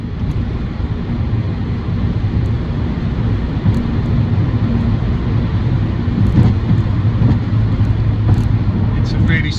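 A MINI Cooper S JCW GP engine runs with a steady, loud low-pitched rumble that holds evenly throughout, close by and unaccompanied by talk.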